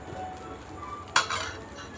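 Wheat flour dosa batter ladled onto a hot pan over a low flame and spread wide, giving a soft scraping swish with a light sizzle and one brief metallic clink from the ladle.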